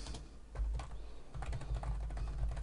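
Quick clicks from a computer keyboard as a query name is typed in Microsoft Access, a close, steady patter of keystrokes in two short bursts with no voice.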